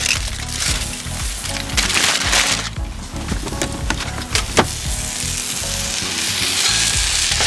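Ground beef sizzles and fries steadily on a Blackstone griddle, loud and close, with scraping and clattering of a spatula as the meat is broken up, with no talk.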